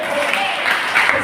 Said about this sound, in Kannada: ಕೂತ್ಕೊಳ್ಳಿ, ಚಪ್ಪಾಳೆ ಕೊಡ್ರಿ.